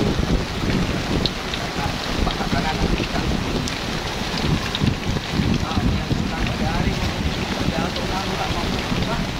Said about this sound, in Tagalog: Ang lakas na ulan.